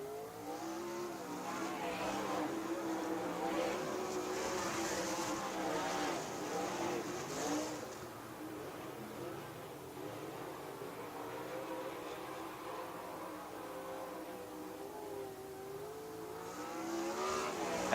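USAC race cars circling the dirt oval at Mohave Valley Raceway, a faint, distant engine drone rising and falling as cars pass, continuous and muffled, with no voices.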